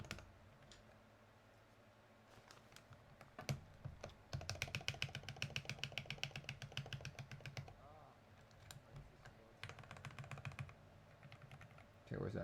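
Rapid clacking keystrokes on a soldered KBDFans KBD67 MKII mechanical keyboard, with bursts of fast typing, scattered single key presses and pauses, close and crisp, with a voice occasionally speaking in the background.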